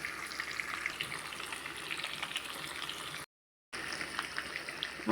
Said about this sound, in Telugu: ఎంత బాగా ఫ్రై అవుతుందో.